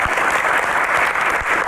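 Loud, dense audience applause fills a brief moment on a televised music show after a guest is introduced, a continuous roar of many hands with no pause.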